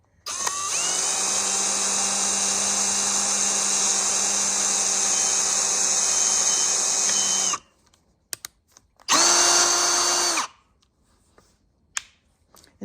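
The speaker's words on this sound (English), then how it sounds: "I am pre-drilling some holes that I marked with the tip of a screw to indent the wood" A cordless power drill pre-drills screw holes in wood, one long steady high whine lasting several seconds, then a brief second burst, close up and alone in a quiet space.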